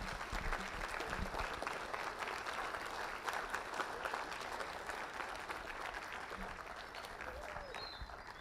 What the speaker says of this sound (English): let's give our concert choirs a big round of applause